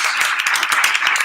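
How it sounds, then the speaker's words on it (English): An audience applauds panelists at a public forum on public space, a close, dense burst of many hands clapping continuously with no talk over it. "can we get a round of applause for our wonderful panelists?"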